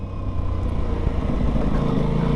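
A 2021 Aprilia RS 660 twin-cylinder sport motorcycle in its A2 version runs at a steady, smooth drone, a dense low rumble that holds even throughout without talk.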